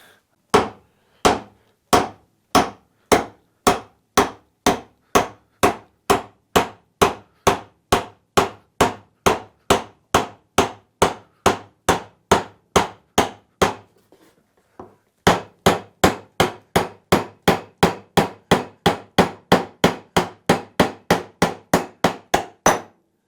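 A wooden dowel hammered through a hole in a steel dowel plate, about forty sharp evenly spaced blows in a steady rhythm, close and loud, with a brief pause before the strikes resume.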